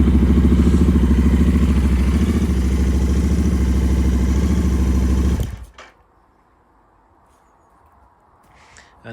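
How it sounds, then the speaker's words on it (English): A Royal Enfield Continental GT 650 motorcycle idles close by with a steady, even mechanical throb for about five seconds, then the engine shuts off abruptly, leaving near silence with a few faint handling noises. "It's funny when you have people standing behind the bike and you have the engine running,"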